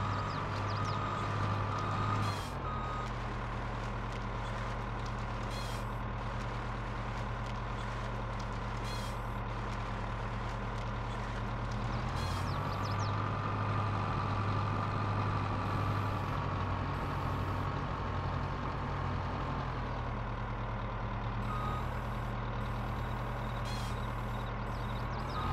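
A logging truck in Farming Simulator 22 on a wooded Elk Mountain, Wyoming map runs with a loud, constant diesel drone that shifts pitch now and then as it maneuvers and idles, with faint high beeps over the rumble and no talking.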